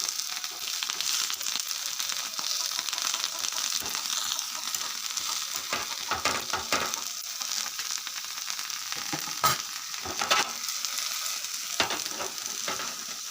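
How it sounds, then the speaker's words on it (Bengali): Morola fish wrapped in bottle gourd leaves sizzles in hot oil over low heat, a steady crackling fry with occasional sharper pops and spatters throughout. "আঁচটা কমিয়ে ভেজে নেব সুন্দর করে"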